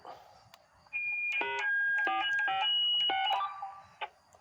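A sequence of discrete dual-tone DTMF beeps from a two-in-one radio repeater controller, several short keyed tones in quick succession, clear and fairly loud over a quiet background with faint noise before and after.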